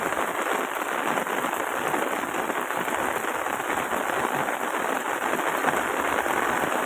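Heavy rain beats down steadily in Rajula, with water pouring off rooftops and through drainpipes, forming a loud, dense, unbroken hiss close by.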